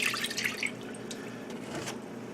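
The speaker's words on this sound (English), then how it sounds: "In a pan we're going to pour 1 cup of apple cider." Apple cider poured from a cup into a pan makes a brief light splashing trickle at the start, then fades to faint dripping and quiet room tone, with no talking.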